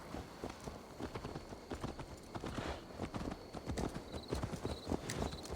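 Horse hooves in Assassin's Creed Valhalla, a steady clip-clop of a walking or trotting mount over soft game ambience, moderately quiet and continuous.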